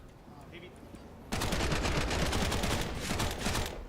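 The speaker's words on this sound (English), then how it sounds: "I like the slow-mo Mac 10 sound. It sounds meaty, punchy." Slow-motion MAC-10 fire in a Counter-Strike esports match bursts in after a quieter stretch, a loud, dense, rapid volley of punchy shots that carries on to the end.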